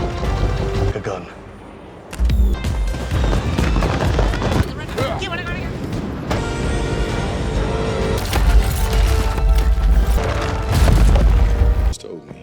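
Gunfire booms through a Thor: Ragnarok battle scene, heavy bursts and blasts running almost continuously for about ten seconds over dense film score and effects, loud and close.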